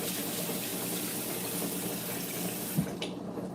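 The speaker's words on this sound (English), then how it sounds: "turn on the cold water and rinse off your rice" Cold tap water runs steadily over rice being rinsed by hand in a sink, a constant splashing rush with a brief stir or clunk near the end before the flow cuts off.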